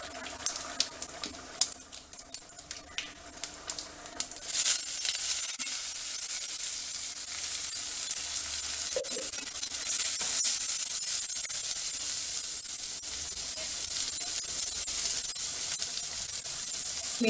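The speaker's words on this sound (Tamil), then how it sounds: "இப்போ மசாலைக்கு சீரகம் 1/4 ஸ்பூனும் உளுந்து 1/4 ஸ்பூனும் போடுறேன்" Cumin seeds and urad dal drop into hot oil for a drumstick mango sambar masala, giving a few close clinks and then a loud, steady sizzle and hiss that carries on throughout, with no talking.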